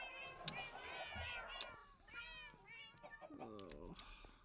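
Cats in the video game Minecraft meow repeatedly, several overlapping pitched mews and yowls in quick succession, close and fairly quiet.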